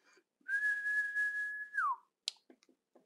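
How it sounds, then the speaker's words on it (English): A person whistles into a Xiegu X6100 handheld ham radio during a power test: one steady sustained whistled tone with a falling end, alone and close, followed by a short click. "I'll give a call out and then I'll give a whistle to see what the peak is."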